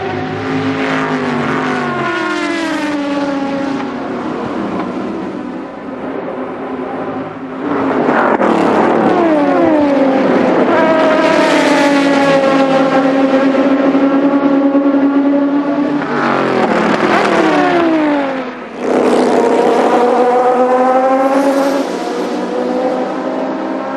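Onboard an Aston Martin race car in the 2006 American Le Mans Series, the engine wailing loud and close through repeated full-throttle climbs, sharp drops on lifts and downshifts between surges.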